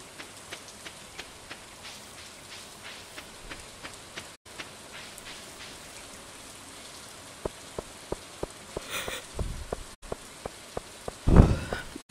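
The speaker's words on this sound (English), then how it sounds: "listening to this rain is making me yawn" Gentle, steady rain in the farming game Stardew Valley patters softly throughout, with scattered sharper drip ticks and a brief louder rustle near the end.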